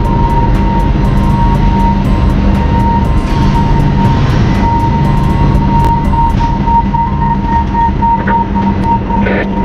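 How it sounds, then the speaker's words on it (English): A gantry crane travels along the quay at Xiamen port, giving a loud, steady mechanical drone with a sustained tonal whine and rumbling hum, continuous and close for the whole stretch. "this crane is shifting now on bay 50"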